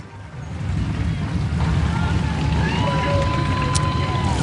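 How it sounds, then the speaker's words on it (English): A group of Harley-Davidson motorcycles rumbles down the road in the Fiesta Bowl Parade, a continuous low engine drone swelling and holding steady amid open-air crowd and street noise. "Familiar rumble of the Harleys heading down the road."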